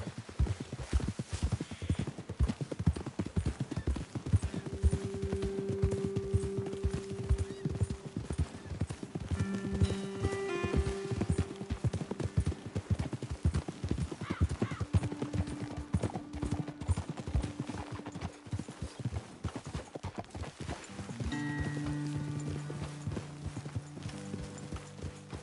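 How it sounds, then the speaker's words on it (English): Steady clip-clop of horse hooves trotting in Red Dead Redemption 2 for the whole stretch, with tonal background music and an occasional whinny-like call. "Best leave the horses back a bit."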